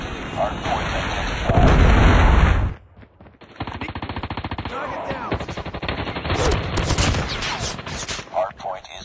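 Rapid automatic gunfire and a heavy predator missile blast in a Call of Duty Mobile match, a dense roaring burst followed by a sharp cutoff and continued rattling fire, with game voice callouts over the action.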